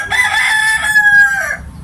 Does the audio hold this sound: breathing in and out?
no